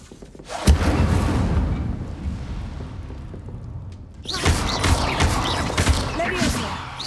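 Incendio fire spell cast in Hogwarts Legacy: two sharp bursts of flame, each a sudden loud whoosh followed by sustained crackling roar, separated by a quieter stretch.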